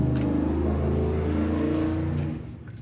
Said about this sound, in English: It's a loud car.